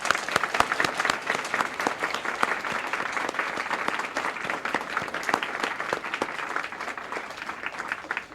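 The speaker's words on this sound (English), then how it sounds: "Let's give them all a really big round of applause." A crowd at the live announcement of Connecticut's Kid Governor applauds steadily with dense, even clapping that holds for several seconds before tapering slightly at the end.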